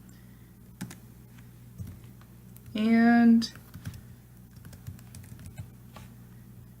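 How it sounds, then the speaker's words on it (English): Typing on a computer keyboard: scattered light key clicks at a steady working pace, with a single short spoken word partway through. "You also can just continue typing."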